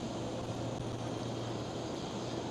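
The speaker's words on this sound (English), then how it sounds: "And a KLM Cityhopper E195 E2" A KLM Cityhopper Embraer E195-E2 jet at Amsterdam Schiphol gives a steady, loud, broadband roar, continuous and unbroken, with no talk.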